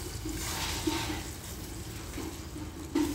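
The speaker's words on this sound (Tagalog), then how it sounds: "Lagyan natin ng tubig" Water is poured from a tap into a cooking pot during an evening meal preparation, a steady continuous splashing and filling that runs the whole time at moderate level, close by, with a brief louder surge near the end.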